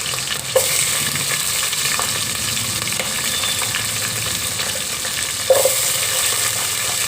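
Green chillies stir-frying in a pan at a biryani stall make a dense, loud, steady sizzle with a couple of sharp utensil knocks against the pan, close and uninterrupted by speech.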